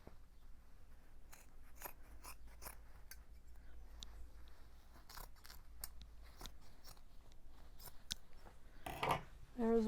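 Scissors snipping into the seam of a satin wedding dress, a series of sharp close crunching cuts over a low background hum, with a brief rustle of fabric at the end.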